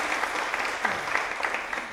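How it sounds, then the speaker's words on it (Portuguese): Audience applause closing a round-table panel at a political communication congress, steady dense clapping from many hands at moderate volume with no voices over it. "Uma salva de palmas nesse encerramento, também o encerramento dessa mesa"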